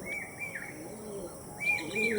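Old-generation pigeons of a single-feather tail breed coo and chirp softly nearby, with a few brief calls standing out over low background noise.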